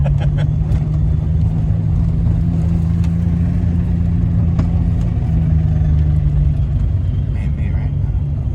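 A supercharged Mk3 Jetta VR6 engine holds a loud, steady droning rumble up close while its tires spin, with a voice talking over it.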